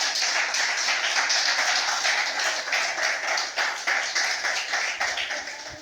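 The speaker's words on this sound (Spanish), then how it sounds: "A su nombre, denle palmas al que vive" A church congregation claps their hands together in a steady, dense patter of overlapping claps that fills the room continuously from start to finish.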